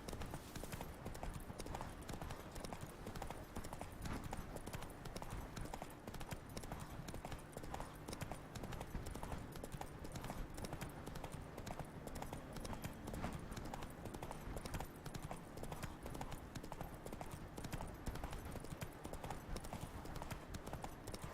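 Roach the horse galloping in the video game The Witcher 3: Wild Hunt, Blood and Wine, with steady, rapid hooves clip-clopping under a dense wash of game sound for the whole stretch.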